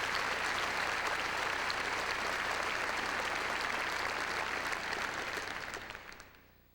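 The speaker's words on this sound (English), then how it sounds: "let's give her a big round of applause" A large crowd at a high school graduation applauding steadily, loud and sustained, then fading out toward the end.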